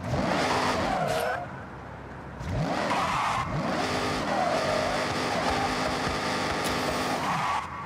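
Car engine revving in Forza Horizon 6, repeated rising engine sweeps with tire squeal between them, loud and close, with a brief dip before the revs climb again.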